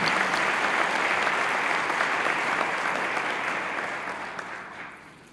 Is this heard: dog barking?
no